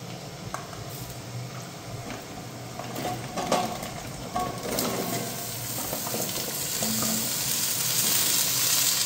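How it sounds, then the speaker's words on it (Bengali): Pumpkin and potato pieces fry in a pan of oil with onion, giving a moderate, continuous sizzle broken by the scrape and clatter of a spatula stirring, gradually growing a little louder; no speech. "এখন কুমড়ো আর আলুটা দিয়ে দিচ্ছি।"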